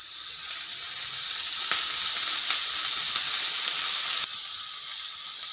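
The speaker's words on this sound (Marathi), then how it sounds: "आता आपण हे कांदे भाजून घेऊ। यात थोडं तेल टाकू।" Onions frying in oil in a pan along with bay leaf and dried chillies, giving a loud, continuous close-up sizzle with a few faint stirring clicks and no talk.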